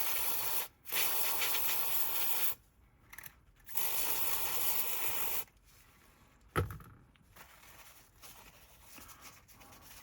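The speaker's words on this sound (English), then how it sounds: "I'm just going to use this contact cleaner to clean the worst off the armature" Contact cleaner is sprayed onto the armature of a Hornby Dublo three-rail 0-6-2 model locomotive motor in short, close aerosol hisses that stop and start, followed by quieter rubbing and a single sharp knock.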